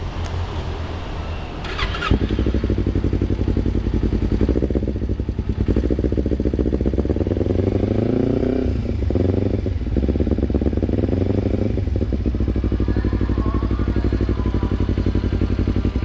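A motorcycle engine with a loud aftermarket exhaust idles with a deep, throbbing rumble, revving up and down a few times, close and continuous, kept fairly restrained.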